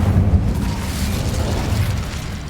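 A roaring, rumbling whoosh of the Incendio fire spell in Hogwarts Legacy, a heavy low burst that holds as a steady crackling blaze, loud and close.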